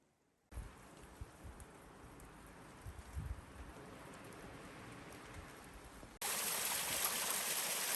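Rainwater runs and trickles down a steep, rocky hiking trail in the White Mountains of New Hampshire, a steady hissing wash of water and rain that jumps suddenly louder and brighter near the end.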